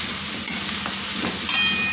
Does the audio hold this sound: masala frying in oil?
yes